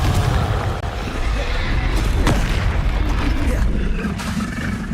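Booming spell explosions from Bombarda and Confringo blasts in the Hogwarts Legacy video game, a continuous dense rumble of bursts and crashes with one sharp blast near the middle, loud throughout.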